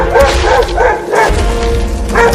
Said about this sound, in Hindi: अरे अब ये कुत्ता हाथी के ऊपर क्यों भौंकने लगा?